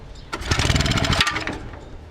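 A Belle 150 cement mixer's 2.5-horsepower Honda G100 engine starts and runs close by, a loud, steady, buzzing putter with no talk over it.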